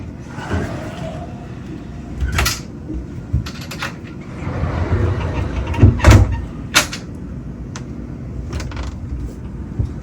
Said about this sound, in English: It does convert to a private stateroom with these pocket doors.